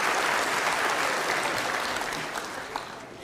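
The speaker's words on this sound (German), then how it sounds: "Nochmal einen herzlichen Applaus" Warm applause from a studio audience at a Schlager music show, a dense, steady wash of many hands clapping that tapers off slightly toward the end.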